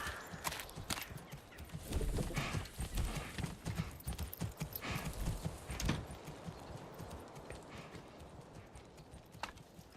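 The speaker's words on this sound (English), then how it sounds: "Okay, we do have a horse." A horse's hooves clip-clop in a village-building video game, a close, busy run of hoof strikes over low rumbling that thins out and fades away toward the end, with no speech.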